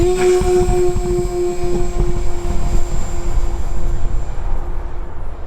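A fixed-wing RC plane with a Dragon Link system flies overhead, its motor giving a loud, steady buzzing drone with a sustained whine that holds throughout and fades slightly at the end.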